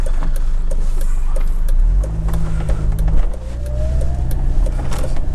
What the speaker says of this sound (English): Quite a lot of traffic.